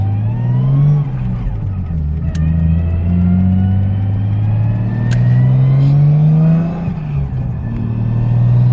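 A Nissan R33 Skyline drives along with its engine revving up and down, a loud close rumbling drone that rises and falls in pitch across repeated accelerations.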